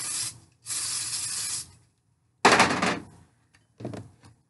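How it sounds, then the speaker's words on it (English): Three short hissing bursts of cooking spray onto a kitchen utensil, the first two longer and the last brief, close up with quiet gaps between. "I'm gonna spray down my utensil"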